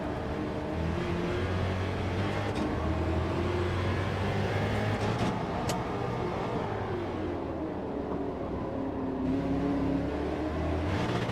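A race car engine in Gran Turismo 7 during practice, a steady droning roar that rises and falls through gear changes and revs, with tyre and road noise underneath, unbroken and with no talk.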